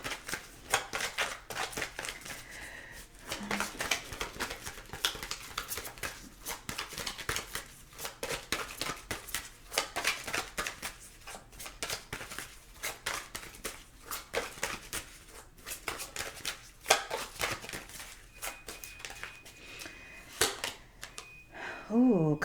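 A deck of chakra oracle cards being shuffled by hand in repeated quick riffles and slaps, close and crisp, with a few brief pauses between bursts.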